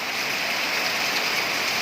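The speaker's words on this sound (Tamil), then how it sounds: "பாருங்கம்மா, எக்கச்சக்கமான மழை நல்லா பெய்யுது." A downpour of heavy rain drums on nearby surfaces as an unbroken, loud wash of hissing spatter that holds steady throughout, with nobody speaking.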